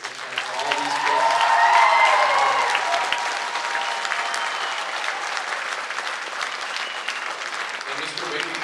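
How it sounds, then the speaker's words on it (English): Audience applause fills a school band concert, a sustained wash of clapping that swells early and then holds steady without letting up, with no talk over it. "can we get one more round of applause before we finish for all these kids?"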